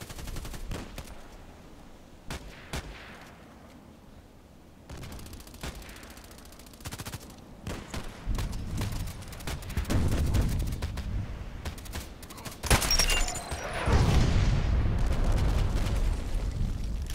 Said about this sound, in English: I have to stop the shooting.